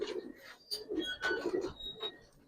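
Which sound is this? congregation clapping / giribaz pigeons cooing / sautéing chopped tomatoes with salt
giribaz pigeons cooing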